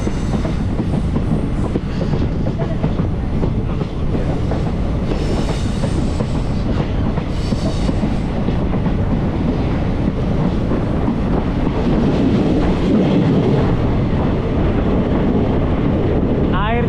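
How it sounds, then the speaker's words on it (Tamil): A passenger train on the Guruvayur to Tenkasi line roars into a railway tunnel, heard from on board as a loud, continuous rumble with wheel clatter and wind buffeting the microphone. "எங்கே ஒரு டனல் உள்ளே வண்டி போகுது பாருங்கள்"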